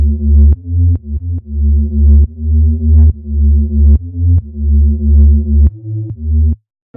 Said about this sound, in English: There is then a preset from a wicked synth called PG8X underneath it, which creates this kind of rumbling sub thing.